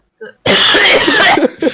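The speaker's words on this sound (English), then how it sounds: "Oh, that clear cough. yeah, so crisp." One loud, crisp cough bursts out close by, with brief faint vocal sounds just before and after it.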